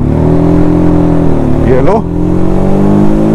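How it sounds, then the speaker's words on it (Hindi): A TVS Apache RTR 310 motorcycle pulls away from a standstill in third gear, its engine droning loudly and steadily close by, with a brief rising strain midway; someone speaks briefly over it. "तो अब ये बाइक तीसरे गियर पे चलेगी"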